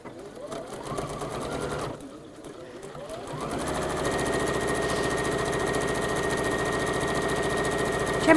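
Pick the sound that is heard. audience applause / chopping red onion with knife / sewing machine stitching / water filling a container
sewing machine stitching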